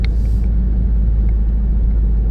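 A car exhaust rumbles deep and loud, echoing off rock walls along US 23 in eastern Kentucky, with a heavy low-end roar, continuous for a couple of seconds with no talking.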